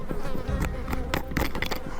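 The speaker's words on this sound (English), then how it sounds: "this is where the mosquitoes started to get really bad" Swarming mosquitoes and flies buzz close around the head out in the wilderness on a journey done on foot, a dense continuous whine with insects darting past the ear at varying loudness.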